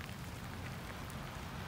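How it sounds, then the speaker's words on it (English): Light drizzle of rain falling outdoors in a rocky mountain setting after a shower, a steady soft patter and hiss throughout at low level with no voices. "Well, there's still a bit of a drizzle,"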